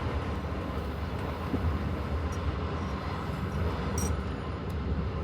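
A passenger train rolls along, heard from inside as a loud, steady low rumble of wheels and carriage noise with faint rattles and clicks, no voices.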